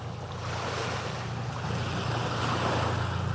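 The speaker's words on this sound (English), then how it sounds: "The waves are crashing down." Ocean waves crash and wash steadily onto a Florida beach at sunrise, a continuous close surf roar with low rumble and some wind buffeting, no voices.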